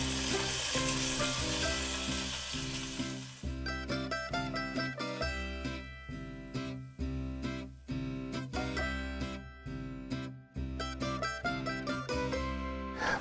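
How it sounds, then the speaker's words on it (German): Lamb meat searing in a preheated, very hot pan for a Greek lamb stew, a loud steady sizzle and crackle of frying that runs throughout with no talking. "Die Pfanne ist vorgeheizt und schön scharf anbraten."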